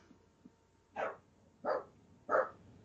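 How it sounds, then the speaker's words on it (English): A dog gives three evenly spaced, muffled barks, moderately close, in an otherwise quiet room with no talking. "That's the dog that wrecks the podcast."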